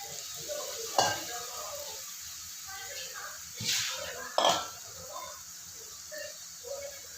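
Eggplant pieces drop into a hot pan and sauté with softened aromatics, giving a steady sizzle with a few sharp utensil scrapes and stirring clatters scattered through, close and moderately loud.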